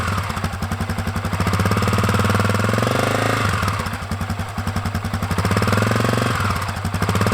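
A Honda CRF250F dirt bike engine revs up and down with the throttle, a close, loud, buzzing putter that rises in two swells and falls back to idle between them, without any speech.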